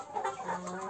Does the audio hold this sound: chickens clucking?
yes